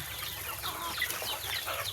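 Pet chickens on a farm cluck and murmur nearby in a soft, continuous chatter of overlapping bird calls, with no voices.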